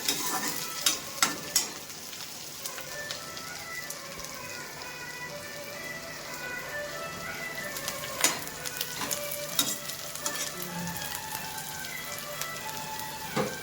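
Steady sizzling of chillies frying in a pan with onions, with occasional scraping clinks of a spoon stirring.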